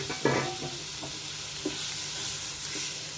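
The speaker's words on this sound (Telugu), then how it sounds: "ఇది చక్కగా ఫ్రై అనండి, బోటి ఫ్రై." Boiled mutton tripe (boti) with coriander powder frying in a pan, a steady bright sizzle with a few soft stirring scrapes and taps, no talk.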